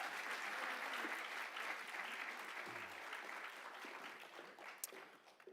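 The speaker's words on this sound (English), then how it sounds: "Let's have a nice round of applause for our Cal Coast Cares" An audience at a scholarship awards ceremony gives a round of applause, with dense, even clapping that carries on steadily throughout and tapers slightly toward the end.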